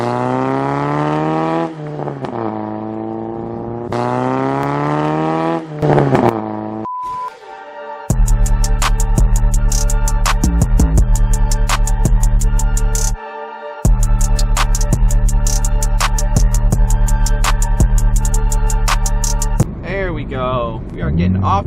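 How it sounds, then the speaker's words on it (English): Car cruising on a highway with a loud engine drone as it shifts through gears, and repeated sharp exhaust crackles and pops riding over the steady roar, recorded close from inside the car. "I just love the crackly pops that this thing makes."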